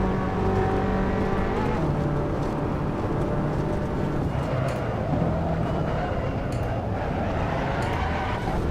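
A race car engine in Assetto Corsa on a hard AI race, a loud continuous whine whose pitch rises and falls through gear changes, with tire and wind noise.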